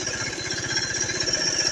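A farm tractor heading out to a field for harrowing chugs along steadily, its low, even engine pulse running continuously at moderate loudness with a faint mechanical whine overhead.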